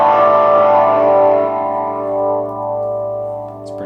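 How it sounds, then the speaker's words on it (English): An electric guitar plays through a Positive Grid Reactor 50 amp set to a cranked Marshall-style tone with moderate to high gain, high mids, treble at 7 and bass at 5. One loud, distorted sustained chord rings out and slowly decays. "includes a cranked Marshall style amp with moderate to high gain, high mids, treble at 7, bass at 5"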